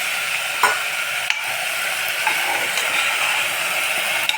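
Vegetables with drumstick leaves sautéing in a pan for vegetable masala bath, a loud continuous sizzle with occasional spoon scrapes and taps, close up and without talk.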